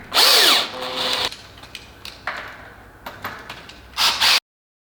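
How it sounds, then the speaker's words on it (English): A power drill drives screws into a Triclimb climbing frame in short whirring bursts, one at the start and another near the end, with light knocks and handling noises between. "If you're using a power drill, make sure it's on a low setting, not too powerful,"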